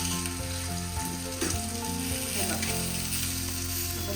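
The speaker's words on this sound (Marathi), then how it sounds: "ते आता दुसऱ्या साईडने आपण फ्राय करायला पलटावायचं" Pomfret fish frying in a pan just after being flipped to its other side, giving a steady, close sizzle with faint stirring clicks, no voices.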